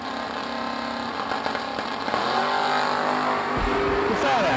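A Vega Wagon and a Chevy Chevelle drag race, with loud engines roaring and revving up close while an announcer talks over the noise.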